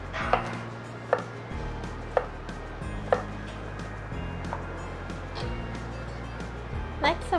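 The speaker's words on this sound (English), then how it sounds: "Next I'm going to chop up the courgette or zucchini." A knife chops a yellow courgette on a cutting board, giving crisp, evenly spaced knocks about once a second at close range over a low background hum.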